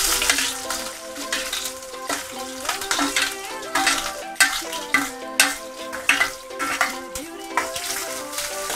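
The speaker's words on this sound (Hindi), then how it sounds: "अब मैं इसमें प्याज डालूंगी।" Onions fry with brown cardamom, bay leaf and cumin in a pan for chole, a close crackling sizzle broken by repeated stirring scrapes and clanks, with music in the background.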